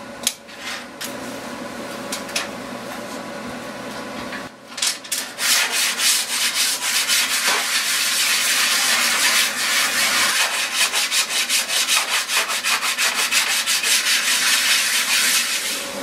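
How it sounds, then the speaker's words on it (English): A metal welding table is scrubbed clean in a shop during a folding trailer build, with steady, loud rubbing and sanding strokes that grow more vigorous after a brief pause. "definitely have to clean off the welding table"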